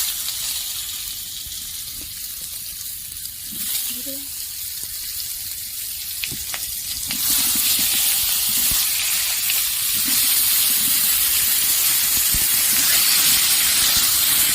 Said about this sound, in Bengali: এবার আমি ঝিঙেগুলো ভেজে নেব।